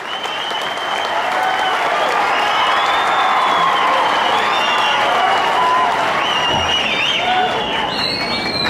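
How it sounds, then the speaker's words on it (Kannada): Sustained, dense audience applause fills the hall at a public gathering honouring an achievement, loud and continuous throughout with scattered cheers mixed in. "ಒಂದು ಜೋರಾಗಿ ಪ್ರಾಣೇಶ್ ಅವರ ಈ ಒಂದು ಸಾಧನೆ ಬಗ್ಗೆ ನೀವೆಲ್ಲರೂ ಒಂದು ಜೋರಾಗಿ ಒಂದು ಕರತಾಡವನ್ನು ಮಾಡುತ್ತೆ ಚಪ್ಪಾಳೆ."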